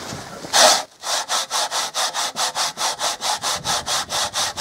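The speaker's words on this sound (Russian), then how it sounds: "Пилится легко." Ordinary hand saw cutting through a building block at a dacha, a brief loud rasp then about seventeen steady, evenly spaced back-and-forth strokes, close and loud with no talking.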